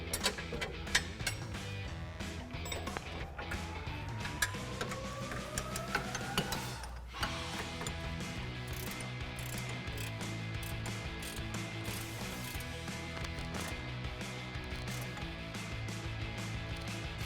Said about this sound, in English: Now we can tighten them down using our 18mm socket and our wrench.